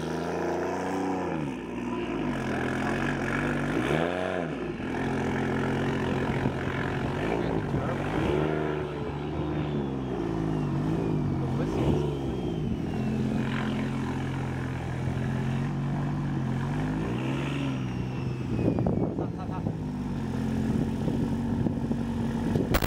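A modified Varis widebody A90 Toyota Supra engine idles and revs deep and throaty, with whistling turbo spool and sharp blips, steady and close for the whole stretch.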